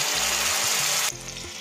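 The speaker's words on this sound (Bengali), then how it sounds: "টমেটো, আদা, কাঁচা লঙ্কাটা আমি ভাজা ভাজা করে নিব।" A tomato, ginger and green chilli paste fries in a pan, sending out a steady close sizzle with a low hum underneath for about a second before the sound drops and changes.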